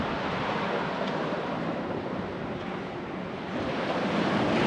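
Ocean waves roll onto a beach in Trivandrum, a steady loud wash of surf with wind noise and no pauses.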